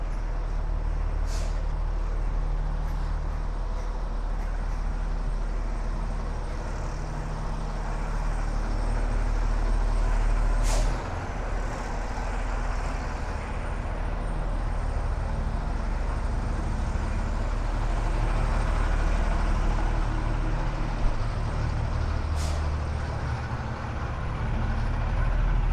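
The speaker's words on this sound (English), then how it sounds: "You can see the traffic here is pretty much backed up." Backed-up street traffic on a Brooklyn avenue, with trucks and buses idling in a continuous low rumble, punctuated by a few sharp hisses of air brakes and distant city noise.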